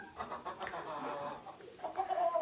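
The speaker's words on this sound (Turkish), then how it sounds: "Şu tavuk." A hen in a coop, nesting and getting ready to lay, gives a few soft, quiet clucks and low murmuring calls close by against a hushed background.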